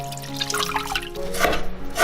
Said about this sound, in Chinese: 泡软的梅菜干清洗干净。 泡开之后的梅菜干是很好清洗的，洗的时候也不要太用力。